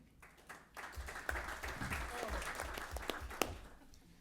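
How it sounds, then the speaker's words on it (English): Applause at a school board meeting, a short burst of scattered clapping from a modest group in a room, rising after a quiet start and carrying on for a few seconds with some distinct sharp claps. "They're applauding for Elizabeth here."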